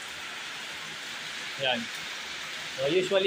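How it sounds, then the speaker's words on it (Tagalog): Heavy rain falls steadily as a constant broadband hiss, with brief talk over it partway through and again near the end. "Napakalakas ng ulan."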